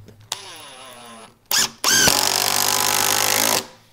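A HART cordless drill with a Phillips number 2 bit drives a 3-inch drywall screw: a short rev, a brief burst, then a loud steady whir lasting over a second and a half before stopping.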